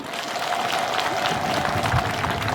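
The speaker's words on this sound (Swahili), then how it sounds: "Wapi makofi?" Steady applause from an audience at a colourful education day scholarship event, a dense sustained patter of many hands clapping throughout, with crowd murmur underneath.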